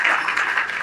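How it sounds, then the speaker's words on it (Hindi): Students at a mid-placement party applaud for classmates placed with Wipro, a brief burst of dense, even clapping from a room full of people. "एक बार विप्रो वालों के लिए तो जोरदार ताली बजा दो"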